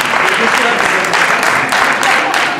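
Audience applauding a person at a Christmas party held at La Valette du Var, a steady clapping crowd sustained throughout with some speech mixed in.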